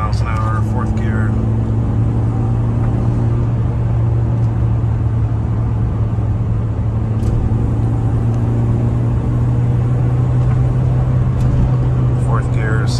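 A 2004 Mini Cooper engine on the freeway holds a loud, constant droning hum with road rumble as it is driven through the gears, and someone talks over it throughout.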